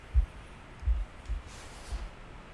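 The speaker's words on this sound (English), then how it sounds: "a deafening heartbeat." A muffled, low heartbeat in The Last Campfire video game thumps softly at a steady pace, with four beats against a faint hiss of background.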